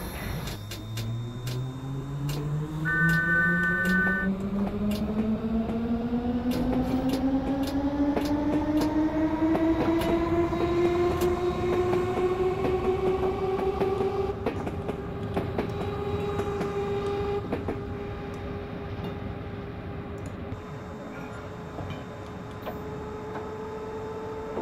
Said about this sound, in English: Right, this train is ready to depart